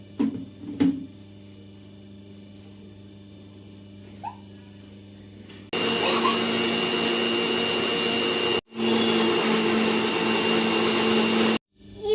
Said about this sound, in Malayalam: ഇനി നമുക്ക് ഇത് മിക്സിയിലിട്ട്